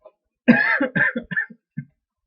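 A knitting podcaster coughs several times in a short burst of rough, voiced hacks at close range, with brief pauses between them and a final smaller cough.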